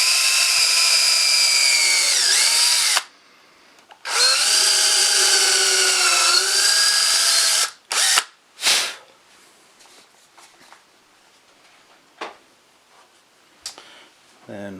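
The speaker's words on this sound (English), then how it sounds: "set up a 1/8 inch drill bit to go that deep, and we'll just find that little indent left over from the Forstner bit," Power drill with a 1/8 inch bit boring into wood on a chair build, a loud steady whine in two long runs with a short pause, then brief bursts and scattered knocks and handling sounds.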